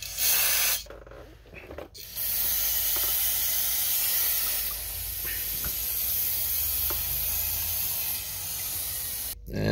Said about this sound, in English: take some brake cleaner and spray all that excess off